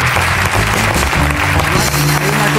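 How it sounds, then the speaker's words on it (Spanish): An audience at a televised talk show claps steadily in a dense, loud burst of applause throughout, with a faint voice underneath. "otro aplauso para Aurora, por favor"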